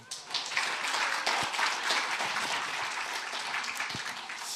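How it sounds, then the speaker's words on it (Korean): Audience in a Korean church morning service applauding together, a steady wash of many hands clapping that holds for several seconds at moderate loudness with no voices over it. "박수 한번 쳐주세요."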